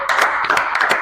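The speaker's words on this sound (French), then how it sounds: "Applaudissons le Seigneur." Hands clap at a church gathering in a quick, even rhythm of about six sharp claps in one second, loud and close with no talking.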